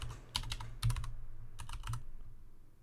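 Keys clatter on a computer keyboard as a command is typed into a RHEL8 terminal, in three quick clustered bursts of close, crisp keystrokes separated by short pauses.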